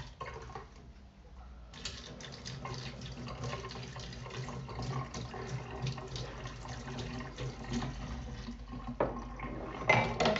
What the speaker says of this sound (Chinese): 我这刀洗一下啊。